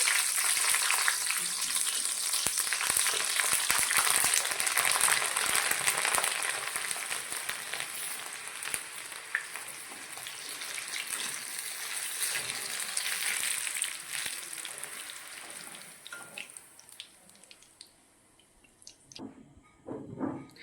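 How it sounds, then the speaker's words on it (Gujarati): Hot oil hisses and crackles loudly as green chillies for vada pav fry, the sizzle fading gradually toward the end with a few scattered clinks. "પહેલાં આપણે વડાપાવ સાથે આપણે મરચાં જે ખાવાના આવે તે તળી લેશું."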